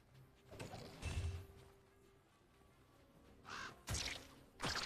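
Birds caw in Diablo 2 Resurrected, several harsh calls spaced over a few seconds amid game ambience and scraping effects, fairly close, with no talk.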